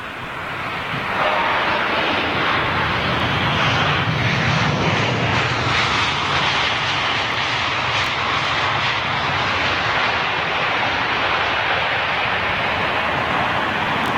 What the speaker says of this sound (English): I'm dying to cut away to this Etihad 380 going out